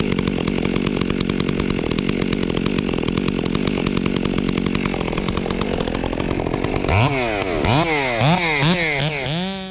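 A chainsaw with a short bar bore-cuts into a 90-plus-year-old pine tree during removal: a loud, close, steady engine drone that rises into repeated sweeping revs near the end.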